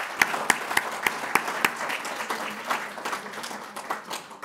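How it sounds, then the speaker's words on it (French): At a conference ceremony, a room applauds a speaker: a few sharp, evenly spaced claps lead off, then looser applause from a small audience spreads and thins, fairly close and moderately loud. "Allez, on peut l'applaudir."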